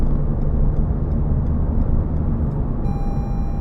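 Cabin road noise in a Toyota GR Sport Yaris cruising at 50 mph on the A55 motorway, a loud steady low rumble and tyre roar with constant broadband wind hiss and no talking.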